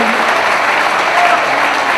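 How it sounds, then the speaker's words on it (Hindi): Loud, dense audience applause at a poetry gathering in Indore, a continuous wash of clapping from a full hall that holds steady for the whole stretch. "तालियां बजाकर।"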